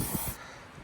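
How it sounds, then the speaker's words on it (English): A short, close hiss of spray penetrant onto rusted bolts on the front clip of a 1968 Ford F-100, cutting off abruptly amid outdoor wind noise. "Go ahead and spray those down as good as you possibly can."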